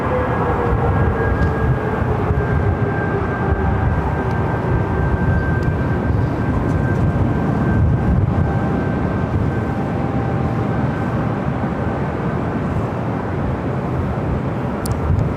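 A Southwest Boeing 737 MAX 8 airliner at Los Angeles airport, heading to Phoenix, gives off a steady, broad jet roar with a faint high whine. It holds evenly for the whole stretch at moderate distance.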